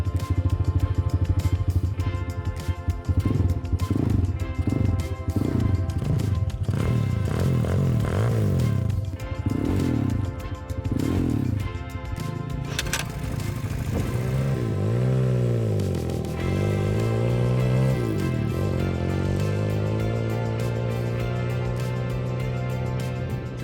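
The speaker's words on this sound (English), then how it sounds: "The engine starts very easily, and the sound of working engine is quite pleasant." A cheap Tiger ATV with a manual gearbox runs steadily while ridden off-road, its engine droning loud and continuous, with pitch rising and falling as the rider shifts and changes throttle.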